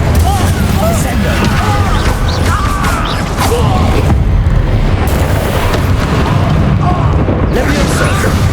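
Rapid fire spells and explosive bursts from the Hogwarts Legacy video game, including the Confringo blast, crackle and boom in a dense, continuous battle mix over a steady low rumble, with casting shouts mixed in.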